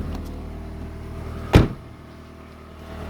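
A Nissan U13's engine runs with vibration transmitted through its mounts, a steady low droning hum heard up close, broken midway by a single sharp thud.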